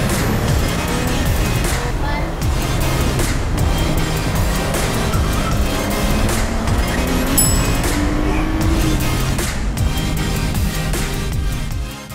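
Cadillac V Sport car on an autocross run in track mode with traction control off, its engine roaring loudly and continuously with rising revs and gear changes throughout.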